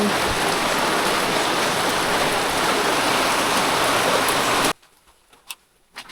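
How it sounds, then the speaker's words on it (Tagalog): Steady heavy rain with strong wind roars as a dense wash of noise, then cuts off abruptly, leaving a few faint drips and knocks. "Hindi rin ganong malakas yung ulan pero malakas yung hangin guys yan."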